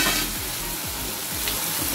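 Mustard paste spice mix frying in a pan, a dense, close hiss and sizzle with a few soft stirring strokes pulsing underneath, steady and unbroken, with no voices.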